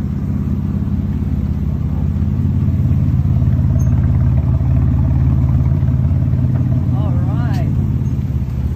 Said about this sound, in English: this is a concept car that sounds like that!